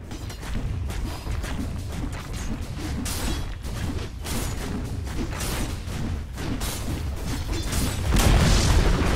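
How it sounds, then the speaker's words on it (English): A Dota 2 match fight with a steady wash of booms, pops and whooshing spell effects, swelling louder toward the end as a tower falls; no talk over it. "Dire's top tower has fallen"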